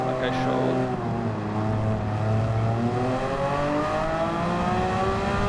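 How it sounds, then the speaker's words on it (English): Engine of a Subaru WRX Gr.B road car with a swapped six-cylinder engine, revving in Gran Turismo 7, a loud steady drone with rising harmonics held throughout, with a voice talking faintly over it. "I believe this is a 6-cylinder engine."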